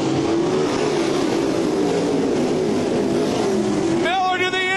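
Dirt track race cars roar steadily as the field comes back up to speed after a slow period, loud and continuous engine noise with a sharper rising whine near the end.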